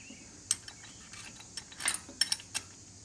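A wrench works a bolt loose on a Royal Enfield Himalayan motorcycle, making sparse, light metallic clicks and ticks close by against a quiet background.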